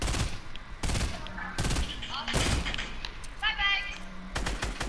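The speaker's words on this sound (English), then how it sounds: "I'm gonna shoot down the metal wall." Video game gunfire: sharp shots ring out in an irregular burst, close and loud, over in-game sounds with some building clatter, and a person talks during it.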